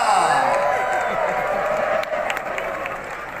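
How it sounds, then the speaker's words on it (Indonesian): Audience applause at a church synod closing ceremony welcoming a government minister, a steady wash of many hands clapping throughout with crowd noise, slightly softer after the midpoint. "Sambut dengan tepuk tangan yang meriah."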